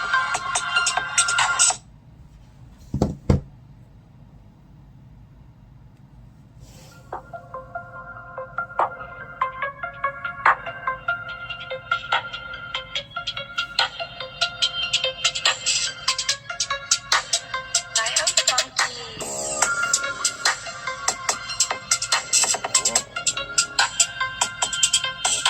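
After a brief opening burst and a short pause, a song comes through the speaker of a Samsung Galaxy Note 8 phone, thin and treble-heavy, with plucky notes carrying on steadily at close range without voices.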